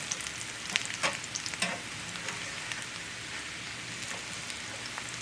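Potatoes and onions fry in a pan, smothered Southern style, with a steady crackling sizzle and a few scraping clicks as a spatula turns them, close by with no talking.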